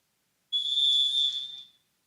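A referee's whistle at a high school volleyball match signals a serve, one steady shrill blast lasting just over a second and cutting off cleanly, loud and alone.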